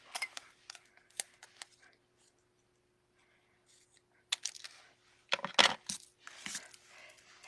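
Scissors cutting off the bottom of a paper craft piece, with quick crisp snips in scattered bursts and pauses, plus small handling clicks, close and moderately quiet.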